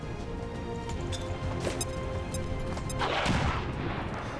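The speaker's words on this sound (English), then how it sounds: "Grenade!" A grenade explodes in the video game XCOM 2 as a loud, sudden blast partway through, rising over steady game music and battle noise.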